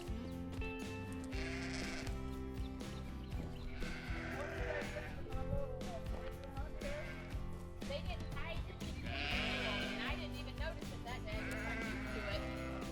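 A flock of sheep and lambs being moved toward a trailer on a farm bleat repeatedly in several bursts, with other animals nearby and a person talking over them.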